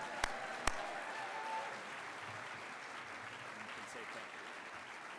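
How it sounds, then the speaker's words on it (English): A room claps for Jacob at the Cystic Fibrosis Foundation's Rocky Mountain Breath of Life gala, a steady, fairly faint wash of applause with a couple of sharp claps near the start. "we're going to give Jacob a round of applause again"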